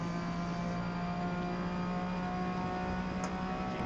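Racing car engine in a video game holding a steady, droning whine at constant throttle, fairly quiet and unchanging throughout, with no voices over it.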